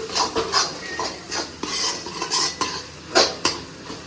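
Chilli powder sautéing in oil for a Tamil fish curry, with a spoon scraping and clinking against the pan in irregular strokes over a low sizzle, close and fairly loud, no talk.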